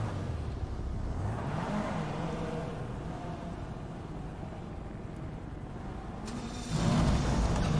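A Lamborghini in GTA V gives a steady engine drone with a rising rev, swelling louder near the end, heard on its own with no talking.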